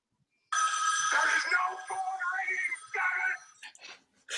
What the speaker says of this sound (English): That is my current general ringtone.